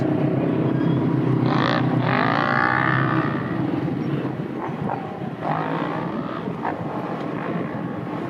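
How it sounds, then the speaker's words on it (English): A water truck rumbles along an off-road ATV and side-by-side race track between rounds, its engine a steady loud drone with shifting whine and pitch sweeps as it passes, no talk heard. "The water truck action between rounds."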